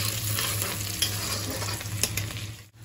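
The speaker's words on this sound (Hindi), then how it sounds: "हमारा प्याज फ्राई हो रहा है" Onions and chillies frying and being stirred in a pan, a steady close sizzle with scraping stir strokes, for a chowmein dish; a brief dip near the end, no talking.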